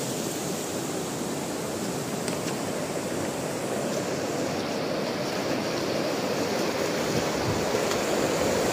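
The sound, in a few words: flood water flowing through a village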